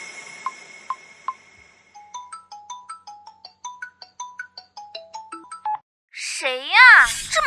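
A phone call goes out: three evenly spaced beeps give way to a melodic ringtone pattern of repeating tones, and a voice answers loudly at the very end.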